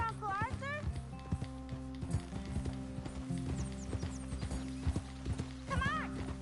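Horse hooves gallop in a steady clip-clop rhythm in Red Dead Redemption 2, with a horse whinnying, under voices talking over the game.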